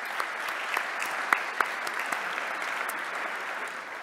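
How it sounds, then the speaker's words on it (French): An audience applauding at an awards ceremony, dense steady clapping from a crowd throughout with a few sharper claps up close. "on l'applaudit"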